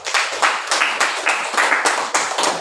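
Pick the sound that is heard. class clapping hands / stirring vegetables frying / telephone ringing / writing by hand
class clapping hands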